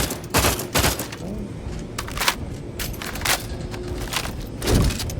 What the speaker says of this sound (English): Come on, Spooky, just keep using all your ammo.